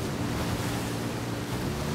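A car drives through water in Forza Horizon 5, giving a steady, loud rushing splash and wash that continues without a break and has no talk over it.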